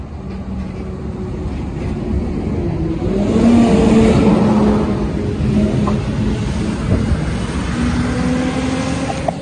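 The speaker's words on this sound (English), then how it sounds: "Here comes the big bus." Big bus rumbling past on a street in Jaywick, a deep engine drone that swells to a peak midway and then fades as it moves on, with no talking over it.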